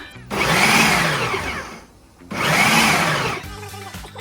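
Electric food processor slicing onions into thin long slices, two loud whirring motor bursts separated by a brief pause, with a quieter clatter as it winds down at the end.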